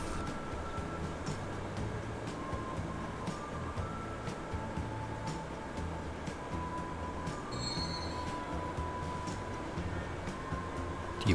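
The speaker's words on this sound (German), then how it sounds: "Einfahrt im Hauptbahnhof" A train rolls into the main station in the game Transport Fever 2, giving a steady rumbling roll with rhythmic wheel clatter and thin wheel squeals rising midway.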